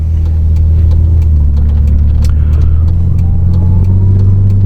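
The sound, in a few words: turbocharged car engine revving with boost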